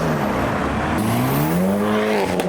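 Skoda Fabia diesel car pulling away from a car show, its engine note rising steadily and continuously up close with no pause, joined by a brief hiss near the end.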